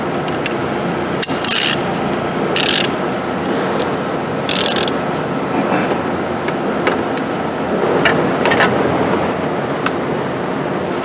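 A long ratchet wrench working on the belt tensioner of a 2002 BMW X5 3.0: rapid clicking ratchet bursts, close and loud, over a steady background hum, with occasional metallic clinks.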